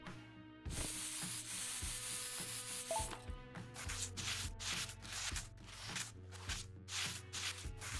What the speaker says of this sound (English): the sound of the sandpaper on the headlight plastic just kind of makes me cringe